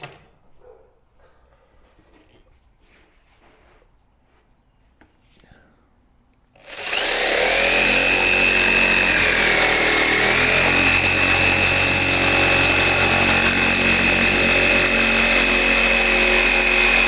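A power saw cuts stickwall timber-look wall panels, bursting in loudly after several seconds of near silence and screaming steadily through the cut, close and harsh.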